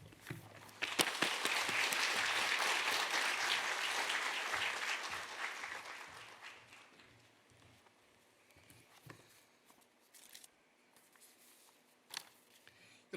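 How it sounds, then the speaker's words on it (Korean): A church congregation bursts into applause to welcome a pastor, the clapping swelling loud and full for several seconds before fading into quiet rustling and a few scattered knocks. "나와서 귀한 말씀 전해 주실 때 큰 박수로 환영하겠습니다."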